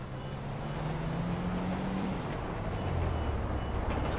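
A truck in GTA 5 Online drives with a steady low engine drone and broad road rumble that holds evenly throughout, with no speech over it.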